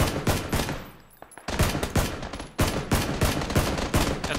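Rapid bursts of automatic gunfire in the battle royale shooter PUBG, loud repeated volleys with a brief lull midway before shooting resumes, no talk.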